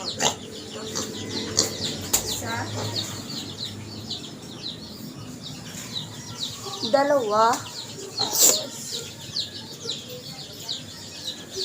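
Backyard chickens at feeding time, scattered clucks and chirps with a short burst of calls midway, fairly faint beneath a person talking and counting.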